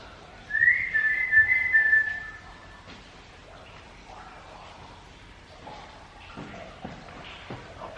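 A person whistles a short rising note inside a tunnel, brief and fairly near, followed by quiet ambient noise and faint movement sounds.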